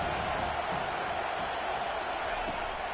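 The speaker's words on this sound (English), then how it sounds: "how nice is it to have the home crowd going absolutely bananas?" A home crowd at a college football game roars steadily as a dense, continuous wall of cheering and noise, loud and unbroken throughout.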